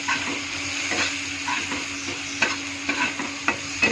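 Sugar and turmeric stirred in a frying pan over a soft sizzle, with repeated scraping strokes of a utensil against the pan, close and steady, no talking.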